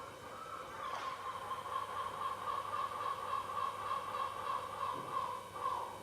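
Seagulls call over a quiet waterside boat workshop at dusk, a continuous chorus of mewing cries and squawks from several birds at moderate distance, overlapping with no pause and no talk.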